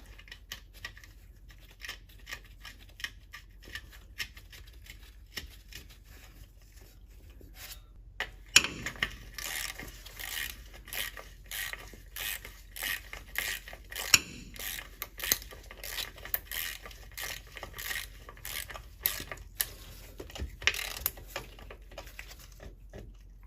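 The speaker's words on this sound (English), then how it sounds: "So nut is gonna go back on." A nut being threaded back onto a shouldered shaft during a GM TH350 transmission shift selector shaft seal repair, heard as close, rapid metallic clicking and ratchet-like ticks. The clicks grow denser and louder partway through, and no one speaks.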